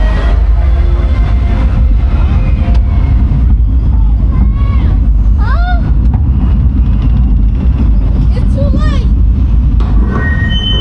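Loch Ness Monster roller coaster at Busch Gardens Williamsburg: a loud, steady rumble of the train on the track, with squealing wheel noises rising and falling.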